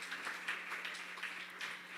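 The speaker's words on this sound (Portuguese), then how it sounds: "Dá uma salva de palmas para o Senhor." Church congregation clapping for the Lord, a moderately full round of applause with uneven bursts of hand claps, somewhat distant and soft, with a low steady hum underneath.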